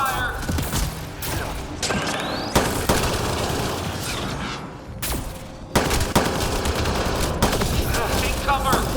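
Heavy gunfire in Mass Effect Andromeda, loud continuous bursts with sharp heavier impacts and booms scattered through, and a voice calling out under the shooting.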